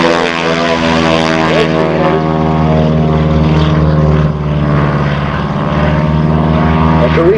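Gene Soucy's Showcat propeller biplane getting airborne at a 2005 Saskatoon air show, a loud, close, buzzing radial-engine drone with strong steady harmonic tones that wavers slightly as it climbs.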